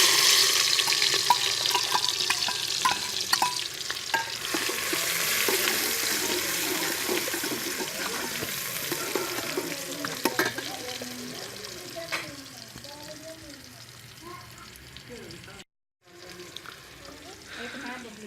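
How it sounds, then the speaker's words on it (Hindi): Tomatoes and onions frying in hot ghee in a cooking pot for kadhi pakora, a steady loud sizzle with stirring scrapes that fades later, with a speaking voice partly over it and a brief dropout near the end. "अब हम इसमें टमाटर और प्याज डालेंगे।"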